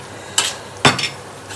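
A spoon scrapes twice through a meat curry in a pan as water goes in, each stroke brief and close over a soft sizzle.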